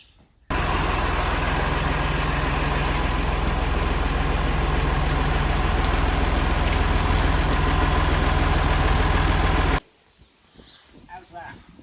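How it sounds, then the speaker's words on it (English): A boat engine, run up in a bucket of water, roars loud and steady for about nine seconds, then cuts off abruptly, leaving faint background sound. "Right, we need to run the engine up"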